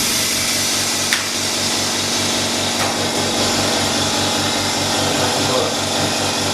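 An OCA lamination machine for smartphone screen repair runs with a steady motor hum and rhythmic pump pulsing, loud and close, with a couple of sharp clicks and voices talking over it.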